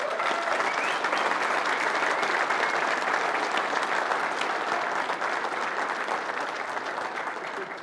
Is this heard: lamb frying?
no